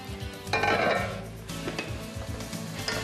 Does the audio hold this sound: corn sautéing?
yes